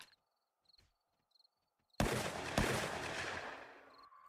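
Burst of gunfire in the survival game 7 Days to Die: a sudden loud volley of shots that rings out and decays over about two seconds, following faint quiet ticks, with no voices.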